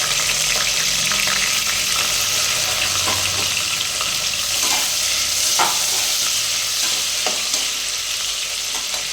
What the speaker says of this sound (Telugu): ఈ ఉల్లిపాయలు బాగా ఫ్రై అవ్వాలి